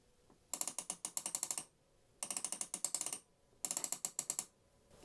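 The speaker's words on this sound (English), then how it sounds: "Elmo and Abby are now on the Ferris wheel. Round and round they go" A Sesame Street toy Ferris wheel turns with a fast ratcheting click, heard in three separate bursts of rapid plastic clicking, each lasting about a second, with brief quiet gaps between them.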